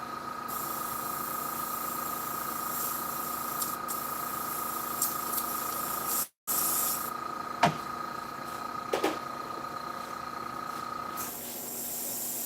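An airbrush sprays paint with a steady, fine hiss that cuts out briefly midway and then resumes, with a few faint clicks and taps nearby and no talking.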